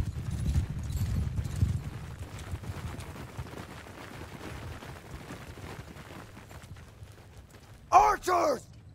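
Horse hooves gallop in a steady clip-clop across a battlefield in Mount & Blade II: Bannerlord with a guns and powder mod, fading under distant noise before a brief loud burst at the end.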